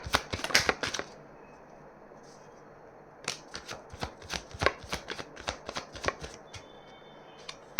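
Tarot cards being shuffled in quick riffling bursts, a dense flurry at the start, then a pause, then a longer run of crisp, close card slaps and flutters, with no talking.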